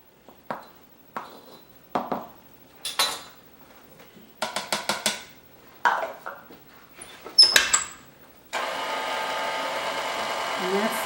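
Scattered clinks and clatters of bowls and utensils give way to an electric mixer starting up and whirring steadily while stirring whole wheat bread dough, a constant motor hum near the end.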